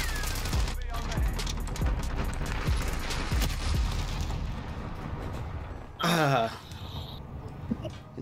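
Rapid M4A1 rifle bursts in Modern Warfare, dense repeated gunshots in a steady loud stream for several seconds, then a brief louder blast and scattered sounds, with a voice talking over the action.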